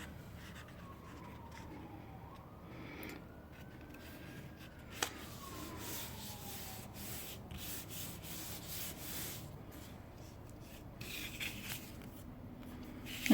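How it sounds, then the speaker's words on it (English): A siren passes outside, rising and falling as a faint, distant wail under the steady rubbing and sanding of paper being glued on a desk. "here comes the siren."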